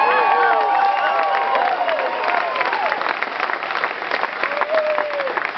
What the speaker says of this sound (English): I was trying to think in advance how I could get some applause